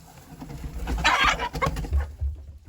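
Hens clucking and squawking in an agitated burst during egg collecting, fairly close, with rustling and handling noise underneath.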